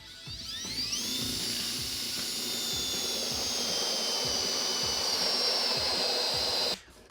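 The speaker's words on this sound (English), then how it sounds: "Now with my pilot hole drilled, I can use my hole saw." A hole saw bores through a Delta Hycroft alcove shower wall panel with a loud, steady, high-pitched whine that holds evenly for several seconds and then cuts off abruptly.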